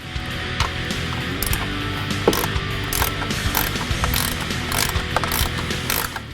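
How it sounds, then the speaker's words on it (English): A ratchet loosening the ground-wire bolt on a 2015-2016 Ford F-150 during a grille lighting install, its steady rapid clicking running throughout with close, dense pawl ticks and a few sharper knocks. "Now we're going to remove the bolt for this ground wire and mount our ground wire for the LED to it."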